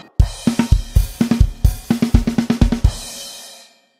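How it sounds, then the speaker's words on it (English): Drum fill worked around the kick drum in a song, fast alternating kick and snare strikes with crash cymbal accents, finishing on a ringing crash that decays, close and punchy with no voices. "and then you play the one around the kick"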